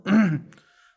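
A single short, throaty cough or throat-clear, close and fairly loud, fading quickly into quiet.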